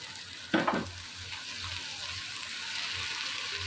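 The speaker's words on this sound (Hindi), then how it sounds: "2 टेबलस्पून लहसुन अदरक पेस्ट डालकर 1 मिनट फ्राई करेंगे" Garlic ginger paste fries with onions in a hot pan, a bright steady sizzle with a short burst of stirring clatter near the start, then an even hiss continuing alone.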